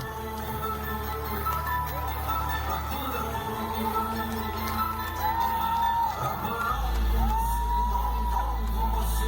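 An awards-show crowd in Atlanta cheers and whoops loudly and continuously, a dense roar of voices rising near the end.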